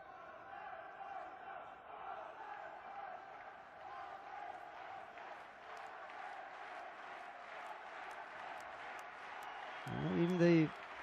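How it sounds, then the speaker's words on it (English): A large crowd at a judo European Championships team event roars and chants in a steady, distant wash of cheering, with a commentator-like voice rising briefly near the end. "Everybody's cheering against the French."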